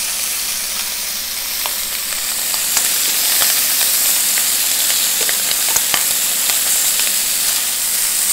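Chicken pieces sizzle and fry in a pan over medium heat as the skin renders its fat, a dense steady crackling hiss with scattered sharp pops, loud and close, with no voices.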